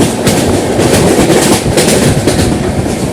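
The Poorva Express passenger train, running from Varanasi to New Delhi, rumbles steadily as heard from on board, with loud rhythmic clattering of wheels over rail joints and no talking.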